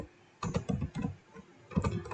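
Computer keyboard typing, two quick runs of close, crisp key clicks separated by a short pause, with no talking.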